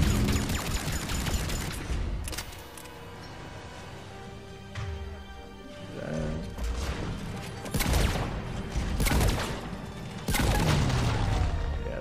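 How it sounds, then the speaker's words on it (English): Rocket fire and heavy explosions in the Mass Effect 3 video game come as repeated loud booms and crashing blasts amid gunfire and mechanical battle noise, continuous and dense for about twelve seconds. "Those rockets are sick."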